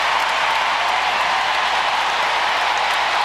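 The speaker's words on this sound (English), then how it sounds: "The sold-out crowd roaring." A sold-out stadium crowd roars for Serena Williams at a tennis match, a steady, dense wall of cheering and applause with no breaks, loud and continuous.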